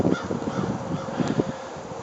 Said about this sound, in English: There's another gathering of crows up there.